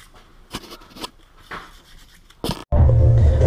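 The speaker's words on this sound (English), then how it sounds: "Give them a quick little scuff." Hand scuffing of light humidity rust on brand-new DSS axles for a MazdaSpeed 6, a few soft scraping rubs close by, then a louder steady broadband noise at the end.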